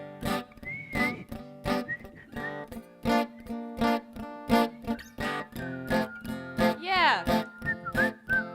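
A person whistles a tune in short, choppy phrases against rhythmic music with strong beats, fairly close and moderately loud.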